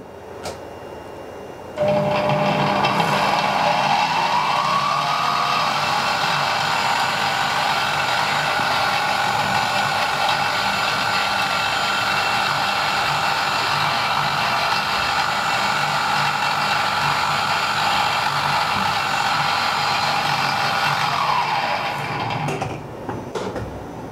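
A Sieg X2 desktop mini milling machine starts up and runs unloaded, its motor whining up to a steady, loud hum for about twenty seconds before spinning down, heard close with no talking.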